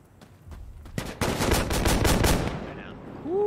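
Gunfire in the tactical shooter game Insurgency: Sandstorm: a few scattered shots, then a rapid automatic burst of about a dozen sharp reports, followed by a fading tail and a rising tone near the end.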